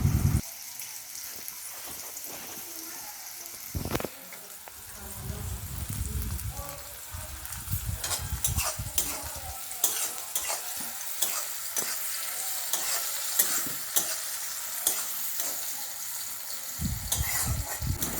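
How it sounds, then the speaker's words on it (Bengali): Green beans frying in a pan for fried rice, with loud continuous sizzling and occasional stirring scrapes, close up and without speech. "বিনসগুলো একটু ভেজে নিচ্ছি, হালকা একটু লাল লাল হবে, তখন তুলে নেব।"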